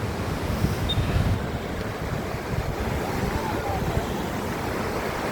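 The Mailung river waterfall in Rasuwa pours in a steady, broadband rush that fills the whole stretch, with faint indistinct voices and some wind buffeting mixed in.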